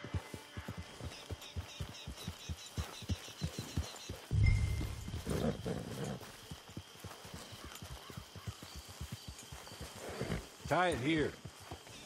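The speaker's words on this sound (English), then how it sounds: "Get your horse." Horse sounds in the video game Red Dead Online: steady clip-clop hooves of a walking horse, with a snort and a whinny partway through, while a person speaks briefly over them.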